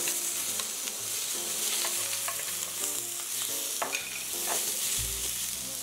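Shrimp sizzle in olive oil in a frying pan on a stovetop, a close steady crackle with scraping stirring sounds and occasional pops.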